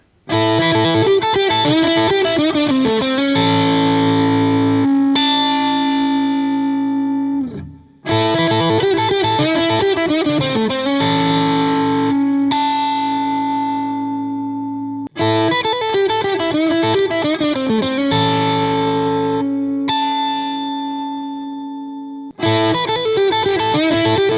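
A heavily distorted electric guitar plays loud, aggressive riffs alone, repeating in phrases with sustained, biting chords between short pauses.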